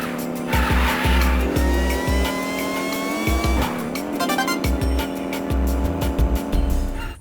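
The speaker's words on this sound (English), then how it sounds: "start drifting from the start of the sharp corner to the point of turning sharply to the end" Kart drifting through a sharp corner in the racing video game Speed Punks, with a steady engine whine and tire squeal that sweeps in pitch through the turn, loud and continuous alongside game music.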